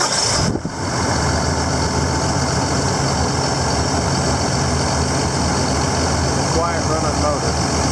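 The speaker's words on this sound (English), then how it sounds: "Quiet running motor." A W235 engine idles steadily at close range, a smooth continuous hum following a brief disturbance at the start, with a voice speaking over it near the end.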